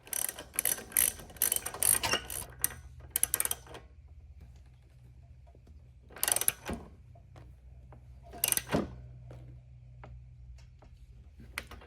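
Spark plug being threaded by hand into a small Honda engine on a Craftsman machine, giving bursts of ratcheting clicks and metallic turning in several close groups separated by quiet pauses.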